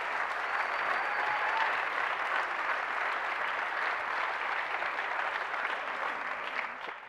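Sustained audience applause after Secretary Arne Duncan's speech at an education event, steady dense clapping from a crowd that holds for several seconds and tapers slightly at the end.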